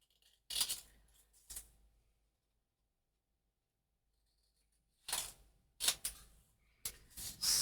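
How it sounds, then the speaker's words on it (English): Scissors snip through journal cover paper in short crisp cuts: two close snips, a long pause of silence, then a quicker run of three or four sharp cuts, all near and clear. "to trim these down to looks like about 1/4 of an inch"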